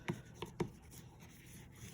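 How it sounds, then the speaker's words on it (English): Scissors rub over a paper book cover for a handmade Japanese stitch-bound mini book, making three soft scraping strokes close to the mic, then a quiet faint rustle. "I'm just gonna go over this with my scissors just to flatten out any of the bumps."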